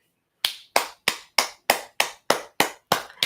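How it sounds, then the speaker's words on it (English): Nine sharp hand claps ring out close and loud, evenly spaced and quickly decaying, with no talking. "I think I just gave myself a round of applause."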